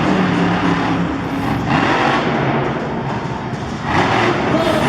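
Titan monster truck's engine roaring during a Monster Jam freestyle run in St. Louis, a loud sustained rumble that surges and rises in revs, heard alone amid arena noise.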